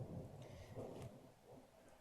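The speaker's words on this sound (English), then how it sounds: "there's a lot of thundering happening on the background" Distant thunder rumbles low and faint in the background during a storm, a soft irregular roll beneath light rain-like hiss.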